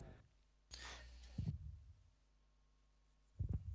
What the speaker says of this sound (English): That heartbeat is just...